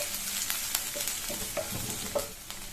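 Chopped onions sauté with bitter gourd in a pan, a soft continuous sizzle broken by occasional scraping stirs and light clinks of a spoon, fairly quiet and heard without talk.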